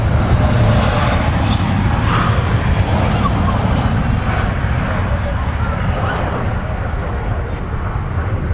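An airplane at Manchester Airport roars with a loud, steady engine rumble that fills the whole stretch, while voices talk over it.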